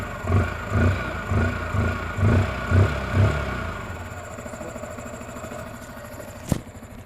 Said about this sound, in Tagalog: Makikita natin dyan, stable yung idle natin.